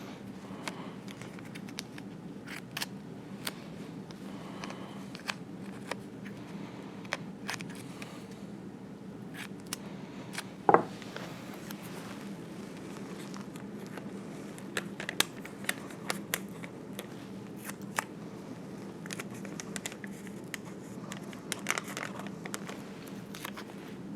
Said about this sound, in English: you're going to want to put some pieces of masking tape on there